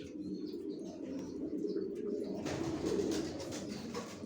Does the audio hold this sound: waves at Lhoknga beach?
no